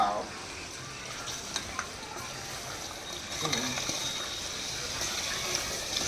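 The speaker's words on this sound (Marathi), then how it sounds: "चमच्याने थोडंसं हलवतोय बघूया थोडं किती शिजले" A spoon stirs curry cooking in a pan, producing a quiet, steady sizzle with occasional light scrapes and taps, plus a brief murmur of voice in the background.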